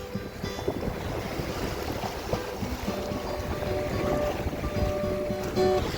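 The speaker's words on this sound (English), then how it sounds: "A few waves." Choppy water slaps and washes around a small sailing dinghy off Waiheke Island in rough, windy conditions, a steady close rush of water with wind buffeting the microphone throughout.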